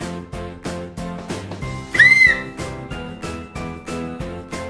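A small plastic toy whistle from a Super Mario candy surprise egg gives one short, shrill tweet over bouncy background music with chiming tones.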